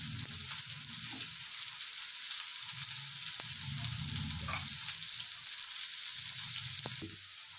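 Onions sizzle in hot oil in a pan as they start to brown, a steady close hiss broken by a few soft stirring scrapes and low bumps.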